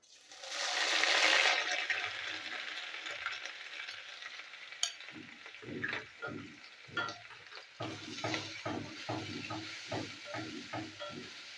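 Grated coconut drops into hot oil with a brief loud sizzling rush, then quieter frying follows under a series of scraping stirring strokes in a regular rhythm, close by.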